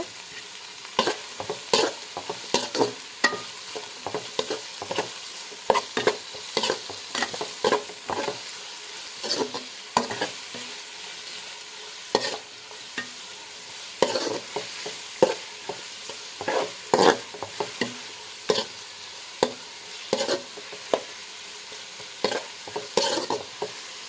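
Bay leaves, cardamom and green chilies are sautéed in a pan, a soft sizzle broken by frequent sharp clinks and scrapes of a spoon stirring up close.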